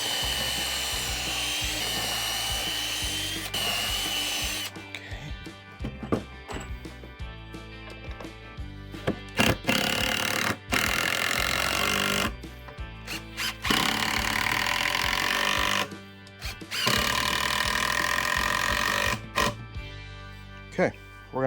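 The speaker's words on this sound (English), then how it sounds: "So I'm just gonna pre-drill a couple holes." A power drill pre-drills screw holes on a DIY truck cab jack built for an abandoned F150 cab, giving several intermittent whirring bursts of varying length, close up, with pauses between the runs.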